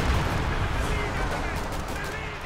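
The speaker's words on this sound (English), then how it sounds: "Is this major artillery? Okay, well, it destroyed those sandbags." Artillery fire destroys sandbags in a strategy war video game, heard as dense continuous battle noise with gunfire and blasts. A voice is faintly present underneath.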